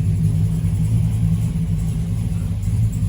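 A Chevrolet Silverado with a Cadillac engine conversion rumbles steadily while driving, a deep continuous low engine drone with no gaps, close and fairly loud throughout.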